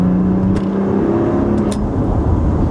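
2017 Maserati Levante engine heard from inside while driving, a steady loud low drone with a throaty hum that holds even throughout.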